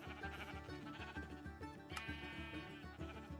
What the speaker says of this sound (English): Hey sheep, what are you doing outside?